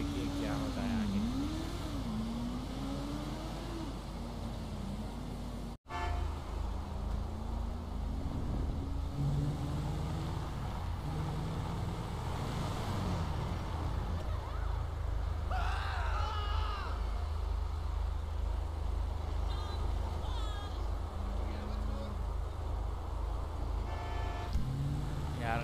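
A convoy of cars and trucks rolls along together in GTA 5, with a continuous low engine drone, occasional revving and passing vehicle noise, and a brief dropout early on.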